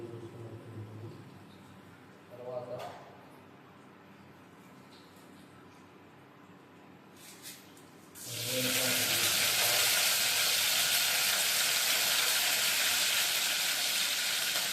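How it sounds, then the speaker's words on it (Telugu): Oil sizzles in a pan while making ridge gourd curry. After a quiet start with a few small knocks, a loud, steady hiss of frying bursts in about halfway through and continues evenly to the end. "హీట్ అయిన తర్వాత ఇప్పుడు ఆయిల్ పోసుకోవాలి"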